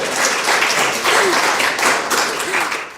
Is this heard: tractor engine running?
no